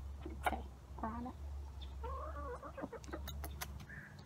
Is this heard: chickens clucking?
yes